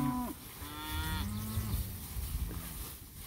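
Cattle low outdoors on a pasture ridge, one deep moo after another, with a few overlapping calls from the herd at a moderate distance and no talk.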